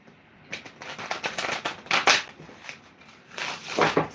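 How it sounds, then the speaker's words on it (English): A tarot card deck gets a hard shuffle, with bursts of crisp riffling and slapping cards coming in several uneven clusters, close and fairly loud against a quiet room. "Let's give her a hard shuffle."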